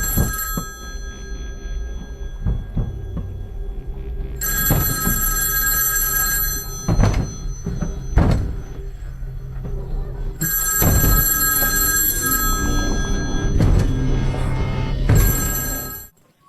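A telephone rings in a movie scene, its bell sounding in several separate bursts over quieter background between them, fairly loud and close until it cuts off at the end.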